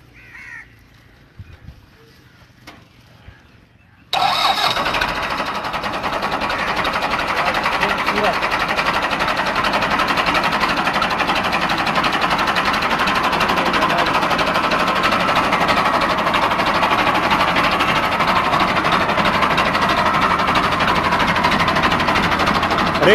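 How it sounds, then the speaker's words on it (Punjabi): A 1983 Massey Ferguson MF265 tractor, 60 hp, starts abruptly after a few seconds of quiet and settles into a steady, loud, close diesel idle that runs unbroken to the end. "ਜ਼ਰਾ ਸਟਾਰਟ ਕਰ ਟਰੈਕਟਰ ਨੂੰ ਜੀ।"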